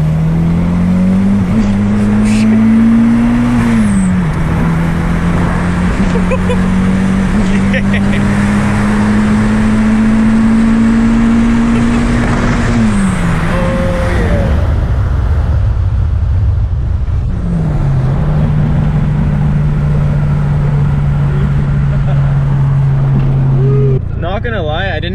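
A turbocharged car engine drones close by, its pitch rising and falling as it revs, with a breathy rush as the turbo lets air out. Voices talk over the engine at times.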